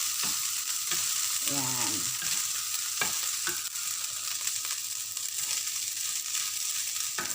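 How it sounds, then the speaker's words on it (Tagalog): Day-old leftover rice with a sprinkle of paprika frying and being stirred in a wobbly kawali, a steady bright sizzle with scraping spatula strokes throughout, and a short spoken word partway. "mahirap maghalo nang hindi ko mahawakan itong kawali at sumasayaw-sayaw si kawali"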